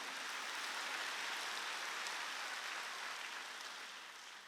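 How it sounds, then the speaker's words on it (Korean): A church congregation at a Sunday worship service applauding: a dense, even patter of many hands clapping together, sustained evenly before easing slightly at the end, with no voices over it. "박수로 하지"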